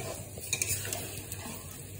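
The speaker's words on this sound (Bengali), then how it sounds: "এটাকে তোমাদেরকে ঘন ঘন একটুখানি নাড়িয়ে চাড়িয়ে দিতে হবে যাতে সব দিকটা ভালো মতন ভাবে সেদ্ধ হয়।" Chicken curry stirred in a pot as it cooks, a faint steady scraping and sizzling bubbling with light clinks, close and continuous, with no voices.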